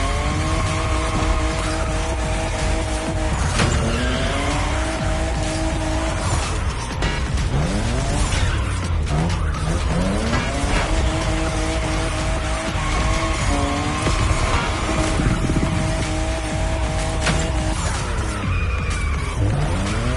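A fifth-generation Toyota Supra races in a video game, its engine loud and close as it revs up and down through gear changes, with repeated tire squeals and skids through turns.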